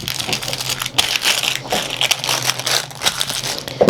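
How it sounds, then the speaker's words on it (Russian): Shears crunch through folded plaid dress fabric in a quick series of close, crisp snips and crinkly rustles, uneven in rhythm and fairly loud, with no talking. "Вот так я сейчас обрезаю."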